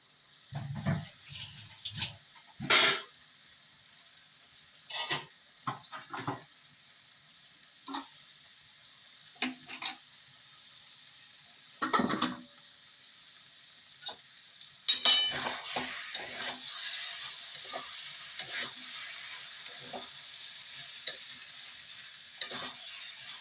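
A cooked poppy-seed dish with potato and soybean is scraped and poured out of a pan, making intermittent spoon scrapes and metal clinks over a faint background hiss that grows busier in the second half.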